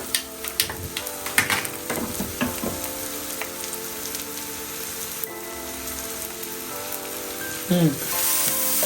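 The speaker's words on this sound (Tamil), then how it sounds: "வெங்காயம் தாளித்து கொண்டிருக்கின்றேன்" Onions being tempered in hot oil in a pan hiss and sizzle steadily, with crackling pops and occasional stirring clatter, close and fairly quiet.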